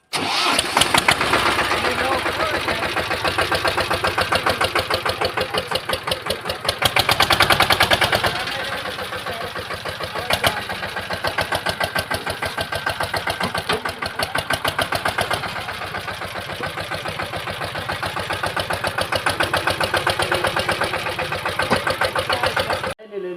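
A farm tractor engine in a village, used during cotton picking, cranks and starts, then idles loudly with a rapid, even chugging pulse, briefly revving mid-way, up close for over twenty seconds.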